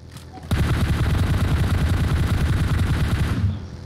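Automatic gunfire in the mobile shooter game PUBG Mobile, a rapid burst of loud shots lasting about three seconds after a brief lead-in.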